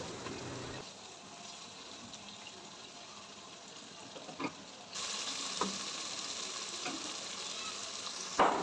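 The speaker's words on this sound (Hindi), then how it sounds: "2 बड़े साइज़ के टमाटर थे और अदरक का एक टुकड़ा और 7 से 8 मिर्चें थी। इन्हें अच्छे से भुनेंगे।" Tomatoes, ginger and chillies sizzling and frying in a pan with garam masala for mutton pulao, a steady close crackle with occasional stirring scrapes and a louder burst partway through, no talking.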